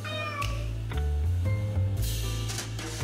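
Cat in the video game Lone Survivor, meowing in a few short, close calls over a steady low musical drone, with no voices.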